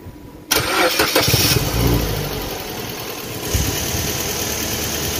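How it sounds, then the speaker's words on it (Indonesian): A Suzuki X-Over car engine cranks and catches with a sudden loud onset, then settles into a steady close idle with a brief rise in revs partway through. "Bro, kita hidupkan dulu mesinnya."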